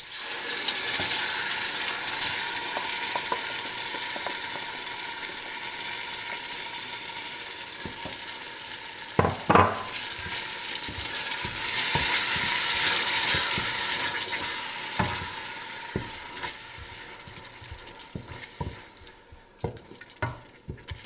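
Tomato purée hits a hot pan of browning ingredients for smoked salmon tagliatelle, sending up a steady close sizzle, with scraping stirs and a few sharp utensil knocks against the pan.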